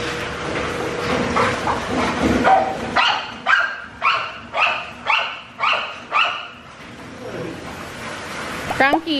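A dog barks in a steady series of about seven sharp barks, loud and close, following a stretch of indistinct voices and background noise.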